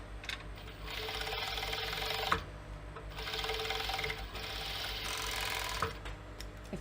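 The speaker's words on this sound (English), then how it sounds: "I may just overlock them, which is only a case of zooming around here. And then just go down the edges." An overlocker sewing machine finishes the fabric edges of a clutch purse, running in two steady whirring bursts of a couple of seconds each with short pauses between, fairly close and quiet, with no talking.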